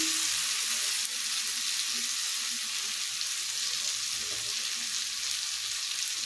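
Onions frying in a pan for an egg curry give a continuous, even sizzle, close and steady, with faint low stirring scrapes and no voices.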